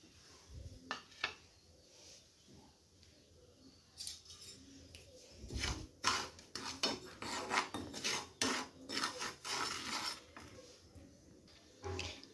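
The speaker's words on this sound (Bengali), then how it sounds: "এবার আমি সুজিগুলো দিয়ে দেব।" Dry semolina poured onto a hot tawa over a gas flame, giving gritty rasping and scraping bursts that come and go, close by with no one talking.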